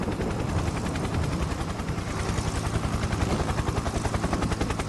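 A helicopter passes overhead in the farming game Farming Simulator 22, its rotor beating in a rapid, even chop that stays loud and close throughout, with no voices over it.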